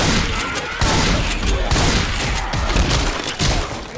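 Rapid, loud gunfire from a close-range firefight in Left 4 Dead 2, with bursts of automatic fire and heavy shots packed tightly across the whole stretch, with no pauses between them.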